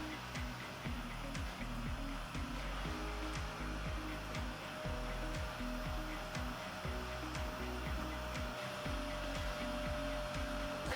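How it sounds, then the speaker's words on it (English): Vacuum cleaner hoovering a floor during a house renovation, a continuous steady motor drone with faint ticking, running alone at low level throughout. "Quickly hoovering."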